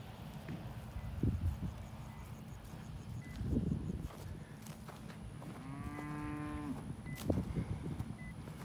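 Braford cattle low with a drawn-out moo, along with a few shorter, fainter calls and some shuffling hoof sounds. The animals are at moderate distance in an open outdoor setting, with no talking.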